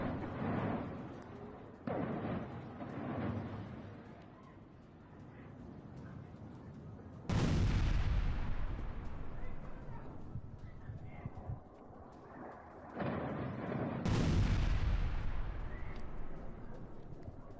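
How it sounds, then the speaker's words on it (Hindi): Bombing at an industrial site in Qazvin, Iran, sets off two heavy explosions several seconds apart, each a sudden broad boom followed by a long rumbling roar, after a stretch of quieter background noise. "कज़विन के इंडस्ट्रियल साइट पर धमाकों से तबाही।"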